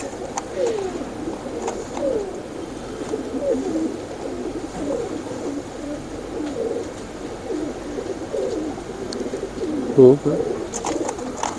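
Royal teddy pigeons coo in soft, repeated rolling calls close by, with someone briefly speaking and one louder knock near the end.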